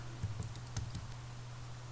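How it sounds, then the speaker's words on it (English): A few soft, scattered keystrokes on a computer keyboard during a children's typing lesson, faint clicks over a steady low electrical hum. "I am just typing for you as we will reach at the end."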